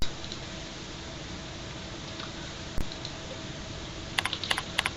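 Computer keyboard keys click: one isolated tap, then a quick burst of several keystrokes near the end, over a steady background hiss.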